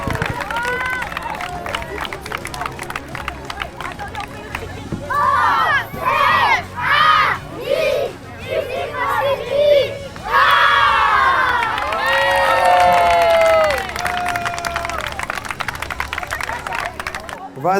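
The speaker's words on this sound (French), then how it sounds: "Allez, tournez-vous face au public et vous pouvez les applaudir très fort." A large crowd of children at a school olympics cheers, shouts and claps loudly, with excited rising and falling shrieks and a long sustained roar near the end.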